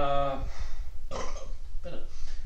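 A man lets out a burp after chugging New York Lager, a short throaty eruption close to the mic, with a brief hum before it and a second smaller belch-like sound near the end.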